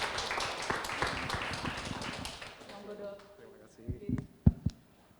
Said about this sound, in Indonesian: tepuk tangan yang meriah untuk dokter Hadi